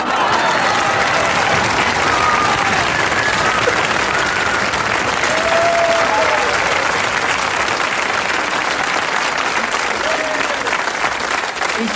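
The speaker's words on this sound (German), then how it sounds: "dass Ihr Applaus hier größer war" A studio audience at a German TV entertainment show applauds loudly and steadily, dense clapping that fills the whole stretch with a faint crowd murmur underneath.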